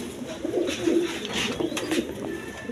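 Pigeons at a pigeon market give a run of low, soft coos close by, repeating in an uneven rhythm over a light background murmur.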